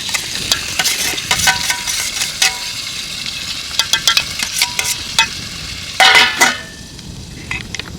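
Tomatoes and their seeds fry under a lid in a village kitchen, a steady sizzle with scattered sharp crackles and a louder burst of spitting near the end, close and without talk.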